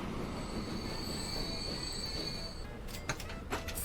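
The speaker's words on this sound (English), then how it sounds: "Screech to a halt." Train wheels squeal in Transport Fever 2 as the train screeches to a halt, a sustained high metallic whine over rumbling rail noise that cuts off and leaves a few clicks and clanks.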